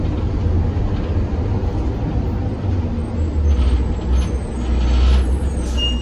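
Inside a city bus with air brakes, a steady loud engine rumble and road noise run throughout, with faint hissing and clunks near the end.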